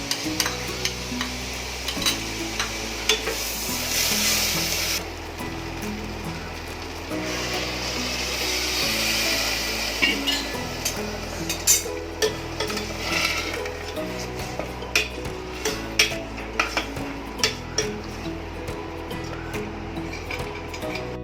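Curd is stirred into spiced masale bhat rice in a pot, giving continuous close spoon scraping and clinking against the metal with a steady bubbling, sizzling bed underneath, growing more rhythmic toward the end.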